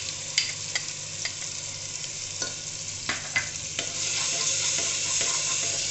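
Onion and tomato fry in a pan with ginger garlic paste, a steady close sizzle broken by repeated scraping clicks of a spoon stirring, growing slightly louder and denser toward the end.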